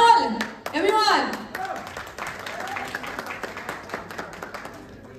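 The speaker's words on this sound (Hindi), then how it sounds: "जोरदार तालियां हो जाए इस खूबसूरत महफिल में।" An audience at a birthday celebration for Khesari Lal claps in a burst of applause that starts loud and thins into scattered claps, while a voice speaks over the start.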